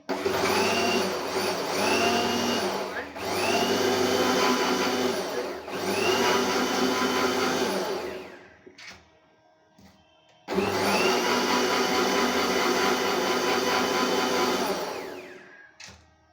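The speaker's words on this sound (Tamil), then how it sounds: "இப்போ மிக்சியில் அடிச்சிடலாம். ஆன் பண்ணியாச்சு." A kitchen mixer grinder churns butter in a large jar to make ghee at home, a loud steady whir running for about eight seconds, slowing to a stop, then starting again after a short pause.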